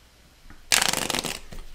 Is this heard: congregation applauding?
no